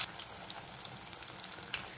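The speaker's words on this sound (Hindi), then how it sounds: "इसी तरीके से हम सारी पठोरी फ्राई करेंगे।" Moong pathori, a steamed moong dal snack, frying in hot oil, giving a steady close crackling sizzle with small popping bursts throughout, no voices.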